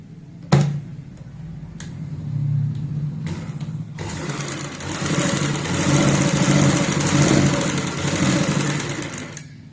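A sewing machine sews in the gaps between pintucks on a kurti neck, starting with a few clicks and short runs, then settling into a continuous close-up mechanical hum.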